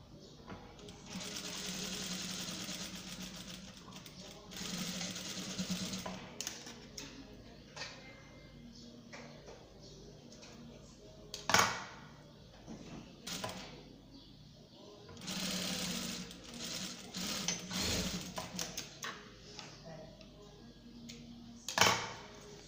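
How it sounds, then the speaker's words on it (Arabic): A sewing machine stitches the shoulders of a garment sewn from an old abaya, running in several bursts of rapid whirring at close range, separated by quieter handling clicks and pauses. "نخيطو هنا في الكتاف، هنايا دايما انا نخيط هنا في الكتاف"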